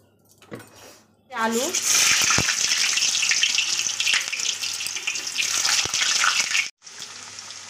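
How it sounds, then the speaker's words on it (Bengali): Mustard oil poured into a hot kadai, then potatoes frying: a loud, rushing, watery sizzle erupts after a short quiet start, holds steadily for several seconds, cuts out briefly and returns, with a voice heard under it. "এখন দিচ্ছি এই যে সর্ষের তেল। আলুটা আগে ভেজে নেব।"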